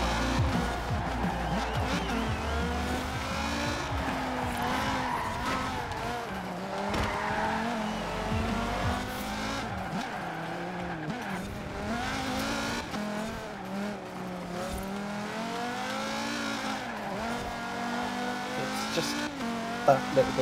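A Volvo racing a custom route in a driving video game, engine droning and revving continuously with pitch sweeping up and down through gear changes and tire squeals, loud and close, with someone talking over it.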